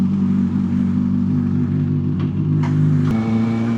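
A 2014 Kawasaki ZX6R motorcycle engine drones steadily while being ridden, loud and close throughout with a low rumbling hum and a slight shift in pitch near the end, with no talking.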